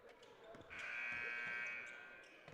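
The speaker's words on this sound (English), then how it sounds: "Hear the buzzer going off in the background there." A buzzer sounds from a JV basketball game in the background of a high school gym, a single faint, sustained tone lasting about a second amid crowd murmur and bouncing balls.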